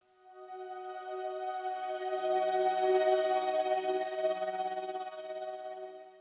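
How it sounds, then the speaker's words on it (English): A wide, sustained synth pad with auto-pan in Ableton Live 11, soft harmonic layers swelling in, holding steadily, and fading, its tone drifting gently as if moving across the stereo field. "This is a little bit of a wider pad."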